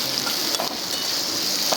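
Oil sizzles and crackles steadily in a pan while egg tarka cooks, a dense, close frying hiss with occasional soft stirring scrapes.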